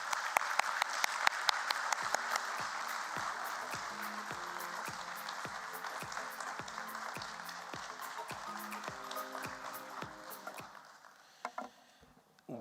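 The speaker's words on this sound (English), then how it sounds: "let's give a thunderous applause for the chairman and managing director of Omnitech Engineering Limited, Mr. Uday Kumar Parekh." An audience at a BSE stock exchange listing ceremony claps in a steady, regular rhythm alongside sustained musical tones. The claps are evenly spaced and moderately loud, then thin out and stop near the end.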